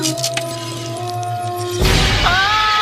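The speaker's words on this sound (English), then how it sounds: "The window shattered after the thunder struck." Window glass shatters with a sudden loud crash partway through, following a steady droning hum, then a brief tonal ring trails after the breakage.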